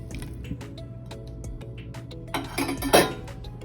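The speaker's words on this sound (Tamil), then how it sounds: "ஃப்ரை பண்ண காலிஃப்ளவரை நாம் இதில் போட்டுடலாம்" Fried cauliflower tipped into a biryani pot at home: soft wet drips and squishy plops with light clinks of utensil on the pot, building into a louder splashy thud near the end.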